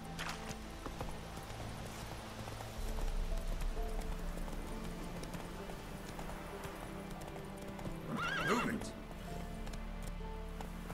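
Horse galloping in The Witcher 3 video game, with steady clip-clop hoofbeats running throughout and a brief whinny near the end, while a person talks over it.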